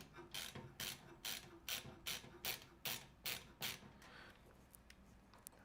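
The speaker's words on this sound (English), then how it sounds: "Hopefully your ratcheting screwdriver is not too loud on the mic." A ratcheting screwdriver clicks in a steady run of about nine crisp bursts, loud and near, before trailing into quiet handling while a PC is assembled in a Fractal Design North case.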